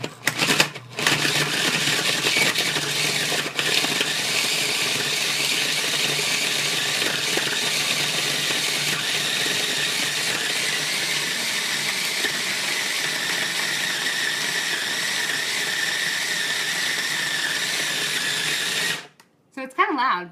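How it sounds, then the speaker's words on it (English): A small food processor grates cold sharp cheddar cheese, giving a loud, steady, broadband whirring and rattling that runs without a break for about eighteen seconds before cutting off abruptly near the end. "we're going to use a nice little food processor"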